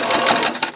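A sewing machine stitches piping and lace along a basting line in a quick burst of about four rapid needle strokes, close and clear, with no voices.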